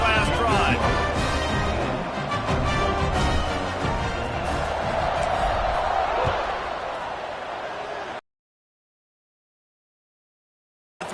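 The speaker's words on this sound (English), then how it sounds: "this crowd is feeling themselves after that last drive" Loud football stadium crowd roaring and cheering after a scoring drive, with a dense sustained wash of voices and some music, under a broadcast commentator's talk, ending abruptly in silence.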